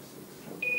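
A short data transmission tone, MT63-2000LG encoding sent by a phone text over an amateur radio link, begins abruptly after soft background noise and holds as one steady high electronic pitch until the end.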